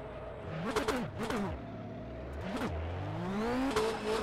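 Nissan S15 in rFactor 2 spinning its hot rear tires in fifth gear, the engine surging in repeated revving bursts with squealing tire noise, rising and falling over several seconds.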